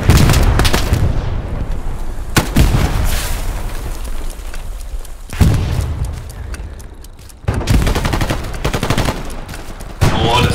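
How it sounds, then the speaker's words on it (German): Dense gunfire surrounds the player in the World War II shooter game Hell Let Loose, with loud bursts and heavy booming shots from several directions that keep coming in thick waves for the whole stretch. "Jetzt schießen sie von allen Seiten."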